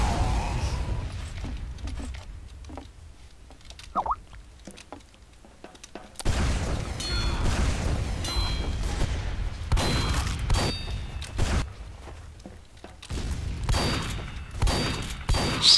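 Shotgun fire in the video game Team Fortress 2, heard as sharp bursts scattered among busy game noise, with a loud stretch of repeated blasts in the second half.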